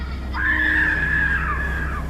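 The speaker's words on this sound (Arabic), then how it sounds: "صوت صريخ" A single high, sustained scream rises and holds for nearly two seconds before trailing off, set within a horror scene of an overturned, burning train carriage with shattered glass; no talking.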